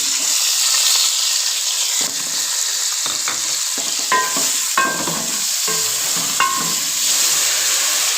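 Spice paste with turmeric and tomato, a splash of water just added, sizzling and frying in a pan for potato-egg curry, a steady loud hiss broken by the scrape and clatter of stirring.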